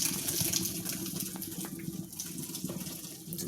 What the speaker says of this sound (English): Draining the noodles, you guys.